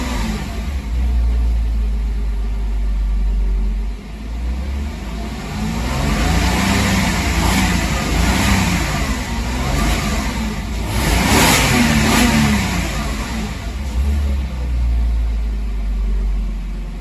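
A 2001 Porsche Boxster 986 engine revs up and down repeatedly around 2,500 RPM, rising and falling in pitch with a deep rumble, close and loud.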